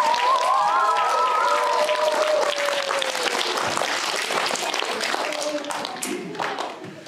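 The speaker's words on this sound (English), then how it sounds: "Give them a round of applause." An audience at a first grade share performance bursts into loud, steady applause that fades slightly toward the end, with some cheering voices riding over the clapping.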